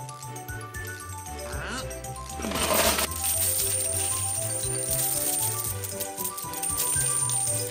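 Dice are rolled in a Czech fairy-tale film, a short clattering tumble and rattle against a hard surface heard over a sustained musical background.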